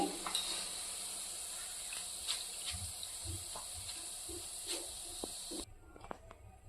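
Boondi made from gram flour drops frying in hot oil at home, giving a steady close sizzle with soft stirring clicks until the sizzle cuts off near the end.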